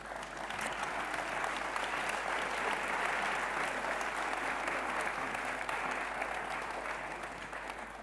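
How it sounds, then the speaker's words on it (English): Sustained applause from a large audience, steady and dense clapping throughout with no voices breaking through. "Please give them a warm applause"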